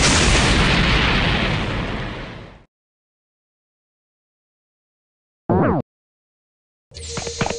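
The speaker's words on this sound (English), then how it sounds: "I'ma fire my laser!" Laser blast from a BIONICLE figure, a loud roaring burst lasting over two seconds, then silence, a short crackling zap and another rough burst at the end.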